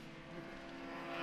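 A V6 Nissan and a V8 Chevrolet Corvette race car roar along a track straightaway, a steady high-revving engine drone building slightly in loudness over a brief moment.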